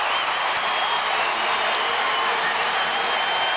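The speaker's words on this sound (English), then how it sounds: "And listen to this crowd at Memorial Gymnasium." A college basketball crowd at Memorial Gymnasium, UCLA Bruins against the Arizona Wildcats, keeps up a loud, unbroken roar of cheering and clapping that fills the whole stretch without dipping.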